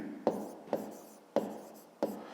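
Pen writing on paper during a maths lesson, four crisp taps and scratches at a steady rhythm over a soft, continuous scratching of the pen.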